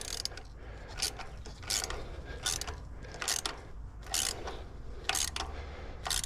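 Coil pack bolts on a 2014 Scion xB being tightened with a ratchet: a rapid series of crisp clicking bursts repeating roughly every half second, close to the mic over quiet background, with no talk.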